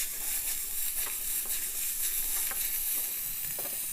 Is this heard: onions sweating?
yes